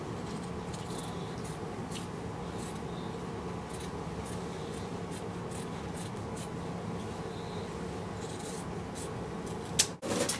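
Scissors snip through Ankara fabric while trimming a peplum blouse, a steady close rasping cut with a sharp click near the end, no talking.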